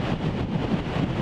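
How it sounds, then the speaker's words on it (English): Strong gusty wind at the edge of a beach cliff buffets the microphone with a low, rumbling roar, steady and loud throughout, no voices heard. "why it's so windy today is because I'm standing on the edge of a beach"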